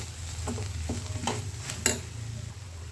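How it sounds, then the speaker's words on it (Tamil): Turmeric and fenugreek powder masala stirred into a pan for a sundakkai and peanut kuzhambu, giving a few scraping spoon strokes over a low sizzle, close and without talk. "மஞ்சத்தூள் வெந்தய பவுட்ரு கலவை மசாலா எல்லாத்தையும் இதில் போட்டுருவோம் போட்டு இதையும் நல்லா இப்படி கிண்டி விட்டுருவோம்"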